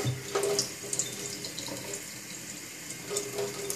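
Cold tap water runs steadily from a faucet over a sneaker, a close, continuous splashing rush with small spatters, with no voices.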